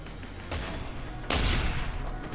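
Combat gunfire from the first-person shooter Deus Ex: Human Revolution, with bursts of shots and one louder, sharper volley partway through, close and punchy over a constant background rumble, no talking.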